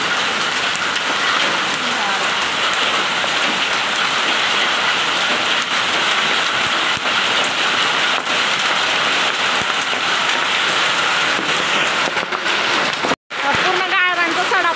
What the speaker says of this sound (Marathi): बघ पाऊस किती आलाय